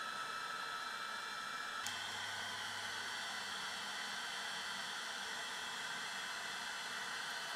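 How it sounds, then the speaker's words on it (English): The small cooling fan of Topsky FX7 FPV goggles blows warm air with a steady, hissing whoosh like a hair dryer, constant and close, with no talking. "this thing is literally blowing like a hairdryer"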